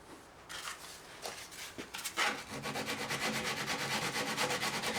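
A hand scraper with a notched channel rounds over the binding edge of a guitar body by hand. Soft close scraping strokes begin sparsely, then settle into a steady, continuous rasping rhythm.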